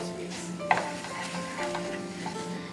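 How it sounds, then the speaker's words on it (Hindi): Almond paste being stirred in melted ghee over heat: a soft, continuous sizzle with a spoon scraping and one sharper clink, close and moderately quiet. "इसमें डालना है तैयार की हुई आमंड की पेस्ट और इसे मिक्स करके हल्का ब्राउन होने तक पकाना है।"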